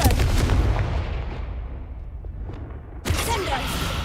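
Confringo blasting spell in a Harry Potter video game: a loud booming blast at the start fading into a long decaying rumble, then a second sharp explosion bursts in near the end, close and forceful.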